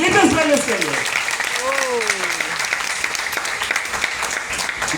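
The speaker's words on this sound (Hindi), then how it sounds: "तो एक जोरदार ताली होना चाहिए एथलीट्स प्लेलिस्ट के लिए" Audience applause in a hall during a direct-selling seminar, a dense steady wash of clapping that carries on for the full stretch, with a voice audible over it at the start.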